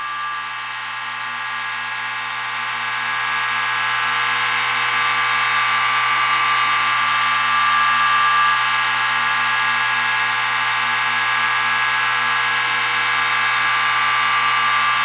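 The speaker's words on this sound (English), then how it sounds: "The sound of these two pumps running together kind of reminds me of the sound of an Airbus A320 in flight." Two Atlas O-scale model oil pumps run together in a steady, continuous mechanical hum with a high whine and a low drone, holding constant and close, no talking.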